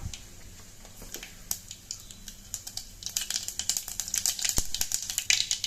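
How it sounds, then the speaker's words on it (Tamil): Mustard and cumin seeds splutter in hot oil for a Tamil rasam tempering, with sharp scattered crackles and pops that grow busier and louder toward the end; no one speaks. "இதில் கடுகு சீரகம் சேர்த்துக்கலாம் நல்லா பொறிஞ்சு வரட்டும்"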